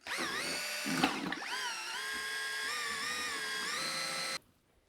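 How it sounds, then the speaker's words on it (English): A power drill spins a mixing paddle through ceramic casting slip in a steady, loud whine with shifting pitch and a brief rattling bump early on, then cuts off abruptly near the end. "Got a random paddle attachment for my drill. And I'll just go ahead and mix this up"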